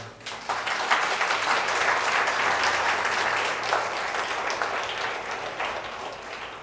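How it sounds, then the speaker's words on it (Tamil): Congregation applause during a Sunday service in a church, a burst of dense clapping that starts abruptly, stays full and steady, then eases slightly toward the end. "அவங்கள பாராட்டி ஒரு கை தட்டிடுங்களேன்"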